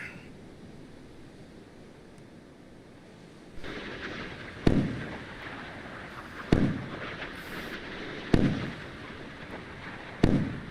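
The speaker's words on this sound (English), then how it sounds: "So they're trying to shoot down my missile. The Iranians are. Putting a lot of fire out." Iranian warships in the naval game Sea Power fire at an incoming missile: four sharp, evenly spaced booms ring out over a steady sea-like wash, each decaying briefly before the next.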